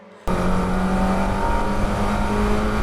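A Mazda MX5 race car at Croft circuit bursts in abruptly with a loud, sustained engine drone holding a steady pitch, close and alone for the rest of the moment.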